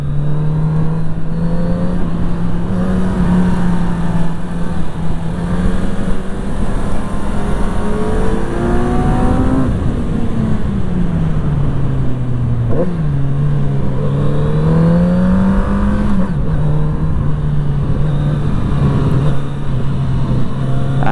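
Ducati Panigale V4 SP motorcycle accelerating around the Interlagos racetrack, loud close engine drone with steady pitch, a dip and recovery mid-run, and repeated rising rev sweeps.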